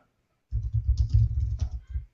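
Rapid keystrokes on a computer keyboard start abruptly after a short silence, a dense close-up patter of clicks continuing for about a second and a half, with no talking.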